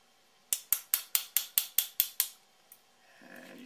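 A Hacker A30XL motor being worked around by hand to free its bearing, giving nine sharp, evenly spaced metallic clicks in quick succession, then a lone tap and a soft rubbing scrape, close and clear.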